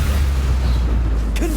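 Avada Kedavra killing curse cast in Hogwarts Legacy, a deep sustained rumbling boom, loud and close, with a brief sharp flare near the end.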